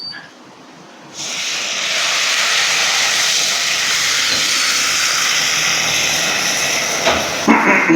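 Ginger garlic paste added to browned onions in a pan for mutton kothu kari sets off a loud, sustained sizzling hiss that begins suddenly after a brief quiet moment and continues steadily, with a few clatters near the end.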